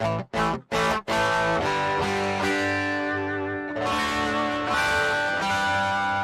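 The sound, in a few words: electric guitar on bridge pickup, dry with no reverb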